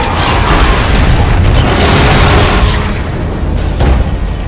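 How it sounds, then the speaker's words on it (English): A big, continuous explosion roars from the LEGO Marvel Super Heroes video game, a loud, dense booming blast that rumbles on for several seconds with no speech. "Possible laboratory break-in confirmed by big explosion."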